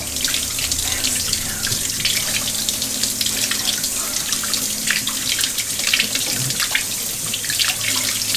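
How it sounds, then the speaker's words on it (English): Warm water sprays hard from a tap into a sink while rinsing a Berkey water filter part, a loud, continuous hissing splash that runs steadily throughout. "I'm going to take some warm water and spray it off"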